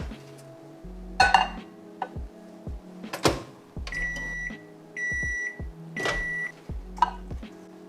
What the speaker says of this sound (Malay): I nak masukkan ke dalam microwave lebih kurang 1 minit